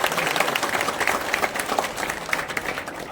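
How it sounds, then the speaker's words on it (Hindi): Dense applause from a crowd at the opening of an INLD-BSP alliance office in Narnaund, steady clapping filling the space with scattered cheers and voices mixed in. "इनके लिए जोरदार तालियां भाई।"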